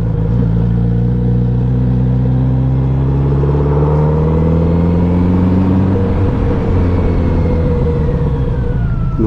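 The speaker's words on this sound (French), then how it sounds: "La moto a un bon son" A Kawasaki Z900 RS motorcycle engine roars loud and close while riding, its rising harmonic drone climbing through the revs, then dropping as gears change, with steady wind rumble underneath.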